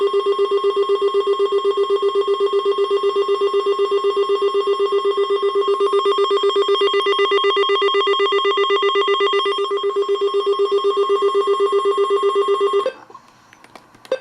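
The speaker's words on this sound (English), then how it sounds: "click Alert Test, press Select, the Alert Test actually sounds really damn cool" An AlertWorks EAR-10 weather radio plays its alert test: a loud, steady electronic warning tone. It holds continuously for about thirteen seconds, then cuts off abruptly into faint handling noise.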